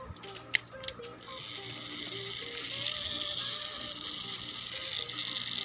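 A battery-powered Tomy Splatter toy has its battery fitted and its small electric motor whirs into a steady, high, buzzing drone. A few clicks come first, then the motor runs continuously and close.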